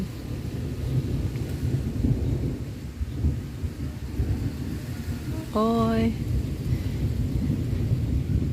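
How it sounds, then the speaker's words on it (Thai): Low thunder rumbles steadily beneath steady rain, with a short exclamation from someone partway through. "เสียงฟ้าร้องแล้ว ทุกคน"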